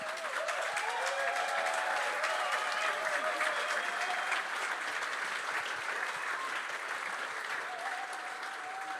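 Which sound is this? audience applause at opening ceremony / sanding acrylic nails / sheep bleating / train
audience applause at opening ceremony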